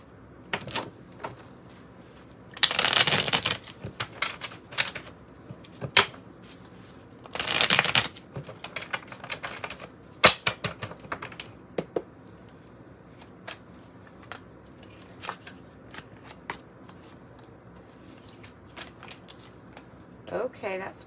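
Tarot and oracle cards are shuffled in two loud riffling bursts followed by scattered taps and snaps of cards being handled, close up, with a voice speaking in between.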